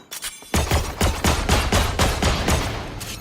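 Gunfire in the tactical shooter Valorant during a competitive match, a sustained burst of rapid, loud shots fired in quick succession after a brief quieter moment.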